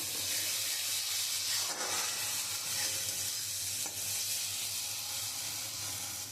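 Masala spices for a mustard rohu fish curry sizzle and fry steadily in a hot pan, a loud, continuous hiss with faint stirring scrapes and no talking.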